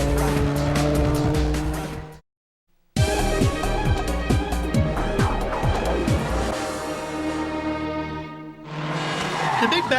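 A Peugeot 206 WRC rally car at the 2003 Rallye Catalunya on asphalt, its engine screaming through gear changes with tire squeal and skidding through dirty corners, loud and close, broken by a brief silent cut before the roar resumes.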